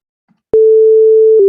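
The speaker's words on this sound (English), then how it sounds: "So this is how a sine wave sounds" A pure synthesized sine tone generated with the Web Audio API starts abruptly after a brief silence and holds loud and steady, ending with a small click as it shifts.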